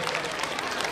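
A crowd at a Christmas celebration breaks into loud, thick applause to welcome a speaker, a brief burst of continuous clapping that fills the room.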